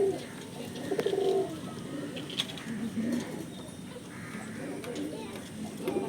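Pigeons cooing in a loft, soft repeated low coos and brief rustles at moderate distance, with a quiet murmur of room noise and occasional light clicks.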